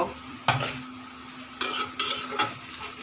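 Chicken marinated with ginger, garlic and yogurt hits a hot pan and sizzles, with bursts of scraping and stirring against the pan and metal clinks, close and without talk.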